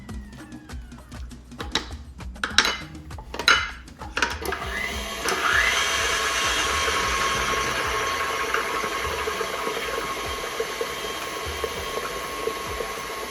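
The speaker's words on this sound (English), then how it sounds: "now I'm going to scrape down the sides of the bowl" Spatula scraping the sides and bottom of a mixing bowl of 7UP pound cake batter: a few scratchy scrapes and knocks, then a stand mixer whirs steadily and fairly loud for the rest.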